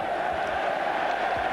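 Large football crowd at an Everton versus Liverpool match roaring and cheering in a steady, dense wash of voices throughout a brief stretch, with no single voice standing out.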